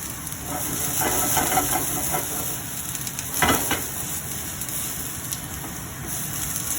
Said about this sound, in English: you just want this to saute, okay? So you want the onions to kind of get nice and soft.